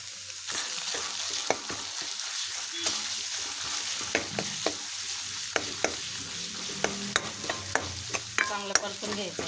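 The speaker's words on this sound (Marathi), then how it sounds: "आपण जे चणे वाटून घेतले ते याच्यात घालून घ्यायचे" Ground chickpeas sautéed and stirred in a hot pan for chana bhaji, a continuous sizzle with repeated clicks and scrapes of the spoon that grow busier toward the end, close up.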